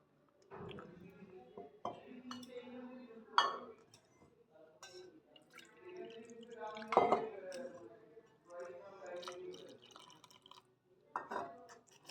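Water poured in small amounts into a batter of flour and turmeric and mixed in a bowl, heard as intermittent wet drips, soft clinks and squelchy stirring strokes with quiet pauses between them, close and faint.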